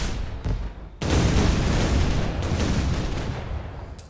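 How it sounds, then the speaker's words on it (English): A firework shot bursts in a tank video game, a sudden loud boom that rolls into a long, dense crackling roar and slowly fades, with a faint earlier pop before it. "I'm gonna shoot a firework, because that one's cool."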